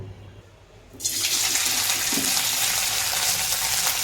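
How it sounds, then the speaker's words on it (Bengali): Paneer cubes frying in soybean oil in a wok: a steady bright hiss and crackle starts abruptly and holds loud and continuous to the end, with no talk. "পনিরগুলো দিয়ে দিলাম, কিছুক্ষণ পনিরগুলো ভাজবো"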